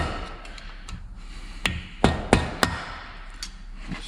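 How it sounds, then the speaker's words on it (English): A hammer strikes a screwdriver to deform a bronze bushing from a Jaguar V8 vacuum pipe seal: a handful of sharp metallic taps, spaced irregularly, close and fairly loud over a faint background hiss. "I'm going to attempt to deform a bit with a screwdriver and a hammer."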